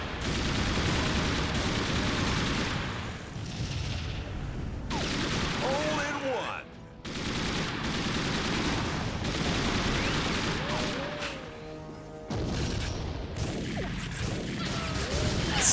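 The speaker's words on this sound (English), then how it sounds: "Let's go on the Browning machine gun." Browning machine gun firing in TimeSplitters: Future Perfect, a sustained loud rattling burst of automatic fire that runs in long stretches with brief pauses, with a voice speaking over parts of it.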